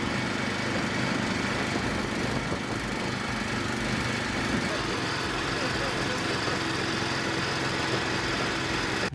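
A Ruris 918K ACC walk-behind tractor engine runs steadily during its break-in period, a continuous loud mechanical drone and rattle holding unchanged throughout with no pauses.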